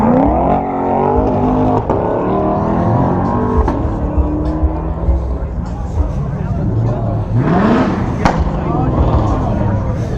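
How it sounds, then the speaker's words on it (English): A Mustang at a busy supercar meet revs its engine hard, a continuous loud roar with rising pitch sweeps and sharp pops, surrounded by crowd noise and voices. "It's a Mustang."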